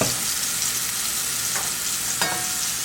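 Salmon pan-searing after being flipped gives a steady, close, loud sizzle and hiss, with a couple of brief sharper spits.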